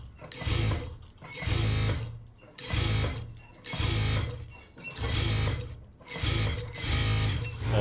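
A sewing machine stitches in repeated bursts of about a second each, separated by short pauses, the motor and needle whirring steadily and close up with no talk.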